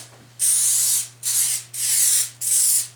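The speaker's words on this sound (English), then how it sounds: "then spray it with cooking spray, and make sure you get the sides greased too" Four short bursts of cooking spray hissing from a can onto a pan, close and loud, with brief pauses between them over a faint low hum.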